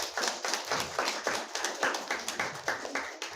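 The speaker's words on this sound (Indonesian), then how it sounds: "Tepuk tangan untuk anak-anak kita." A small audience claps for children at a student exhibition closing ceremony. The applause is sparse and rhythmic, about two hand claps per second at a steady pace, fairly close and moderate in volume.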